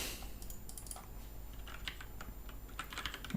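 Fingers tap quickly on a Cherry mechanical keyboard, a rapid irregular stream of light keystrokes close to the microphone over faint room noise.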